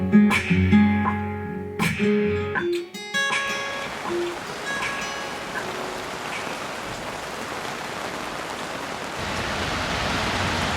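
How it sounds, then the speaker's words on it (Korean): Rain falls steadily as a broadband hiss that fills most of the stretch, rising slightly toward the end, after an opening few seconds of louder music-like tones. "비 온다."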